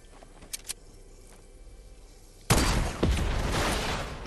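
Gunfire in a Fortnite creative match: two faint clicks early on, then a sudden loud burst of shots that keeps rattling on, ending in another sharp crack.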